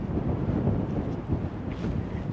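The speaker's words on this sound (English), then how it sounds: "Coming out into the wind." Steady wind buffeting and rumbling across the microphone, loud and continuous with gusty low-end swells.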